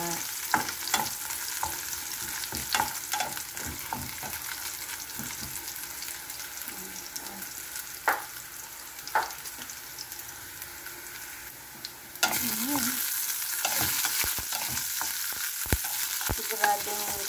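Pork meat sizzles steadily in a hot pan with beansprouts nearby, a continuous frying hiss broken by stirring scrapes and clinks, close and loud, growing brighter partway through.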